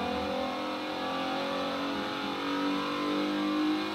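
A race car engine droning in a racing video game as the car enters pit lane, a steady mid-pitched hum with faint revving swells and no talk.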